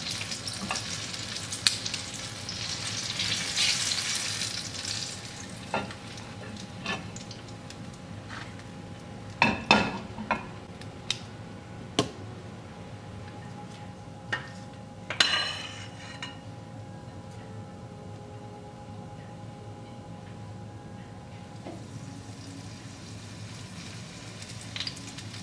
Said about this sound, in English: once I take this apple fritter out of the frying pan, I'll add some more